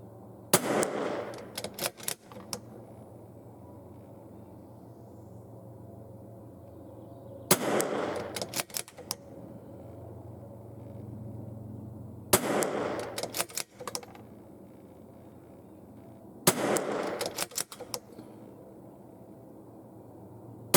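A rifle fires at a 50-yard target in four separate bursts of sharp, rapid shots spaced several seconds apart, loud and close, with quiet outdoor background between volleys.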